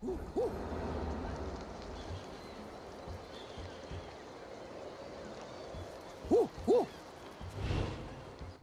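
Small birds call from a nest in the video game Ancestors: The Humankind Odyssey. A brief chirp comes early, then a quick pair of calls later, over a low outdoor wash of water and wind.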